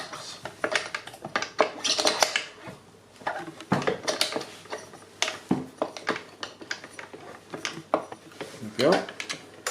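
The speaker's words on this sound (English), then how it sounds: "mix that again" Banana loaf batter of butter, sugar, eggs, bananas, self-raising flour, baking powder and milk being mixed in a bowl, giving irregular clattering, knocking and scraping bursts close by, with some voice in the background.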